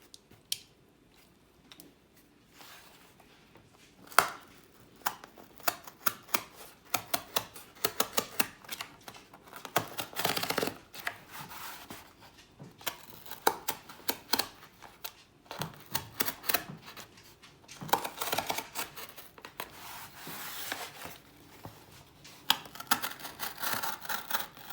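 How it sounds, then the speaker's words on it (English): A box cutter slices through doubled-up cardboard while crafting ornaments, giving a long series of close, scratchy scraping and snipping strokes in irregular bursts, with no talking. "I'm doubling up the cardboard so that when I cut, I don't cut the table."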